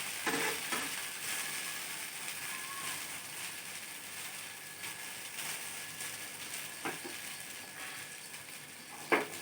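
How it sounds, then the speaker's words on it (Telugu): Leftover idli batter uttapam sizzles and crackles steadily in a pan over a medium flame as its second side cooks, a continuous close fry with a few sharper pops. "ఇలా టర్న్ చేసుకొని రెండో వైపు కూడా కాల్చుకోవాలి."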